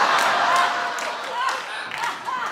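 Studio audience clapping during a daytime talk show's hot topics segment, a dense steady patter of many hands filling the room at moderate loudness, with faint talk mixed in.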